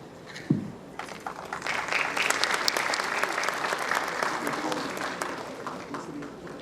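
An audience at a medical institute's first convocation ceremony breaks into applause, swelling quickly into a steady, dense wash of clapping from a large crowd that carries on for several seconds.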